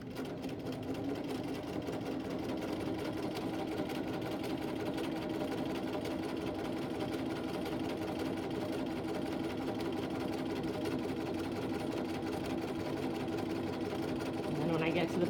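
A sewing machine runs steadily, stitching a zigzag line along fabric, a continuous even mechanical whir close by, with a person talking over it.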